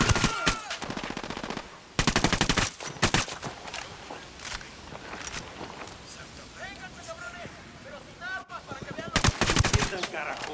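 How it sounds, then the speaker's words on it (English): Gunfire in the video game Ghost Recon Wildlands, with rapid automatic bursts and sharp shots that come in clusters and then break off, while a voice talks in between and footsteps and ambient noise run underneath. "I'm shooting these fuckers."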